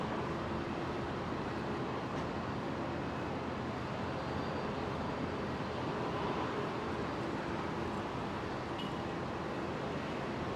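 A Qantas airliner taxis for departure at Brisbane Airport, giving a steady, broad jet engine roar at moderate distance that holds for about ten seconds, with no talk.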